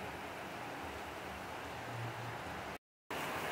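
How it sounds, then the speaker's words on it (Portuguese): Steady rain falls over a backyard vegetable garden with pepper plants and a small pond, a soft even hiss with no voices and a brief dropout near the end. "essa chuva aí caindo, olha."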